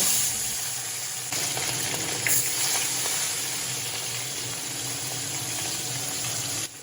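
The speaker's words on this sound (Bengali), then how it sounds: "তেলটা গরম হয়ে গেছে আর এখন আমি মাছগুলোকে ভেজে নেব" Pomfret fish frying in hot oil in a wok: a steady, close hiss and sizzle with a faint watery crackle that holds evenly for the whole stretch, with no talking.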